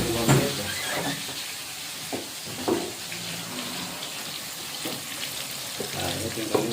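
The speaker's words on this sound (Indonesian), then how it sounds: "Ini hanya digoreng paling juga 5 menit lah" Cassava pieces fry in hot oil with a constant close crackling sizzle, marked by occasional louder pops and splashy bursts, and no talking over it.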